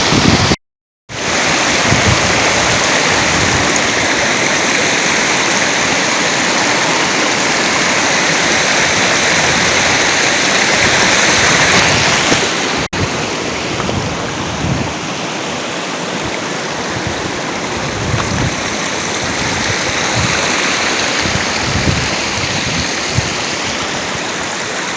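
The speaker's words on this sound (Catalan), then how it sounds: "aquí creuant el riu de Fontalba" The Fontalba river rushes loudly and steadily while it is crossed on foot in the mountains near Núria, a close, dense roar of flowing water that drops somewhat in level about halfway through but never stops.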